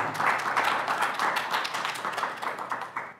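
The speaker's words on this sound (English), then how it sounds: "Please give her a round of applause as well." Conference audience applauding after a speaker's introduction, a dense steady patter of many hands clapping that fades slightly toward the end.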